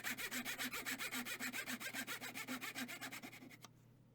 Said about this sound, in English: cutting the slot for the wedge